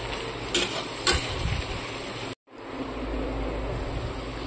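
Bitter gourd and pointed gourd sizzle in a frying pan while a spatula stirs them, with a couple of sharp scrapes early on, a brief drop to silence midway, then a steady frying hiss.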